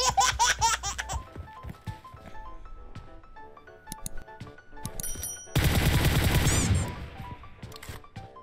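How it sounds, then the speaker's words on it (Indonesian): Enemy gunfire in PUBG Mobile, scattered sharp shots at varying distances with a dense burst partway through, mixed with laugh-like voices and other game sounds. "Oh, dia nembakin boneka gua."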